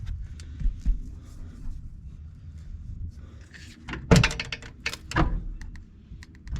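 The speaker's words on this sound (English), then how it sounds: "I gotta adjust this door a little bit." A door being shifted and adjusted by hand, low rumbling handling noise followed by a cluster of sharp knocks and rattles near the end, close and moderately loud, with no speech.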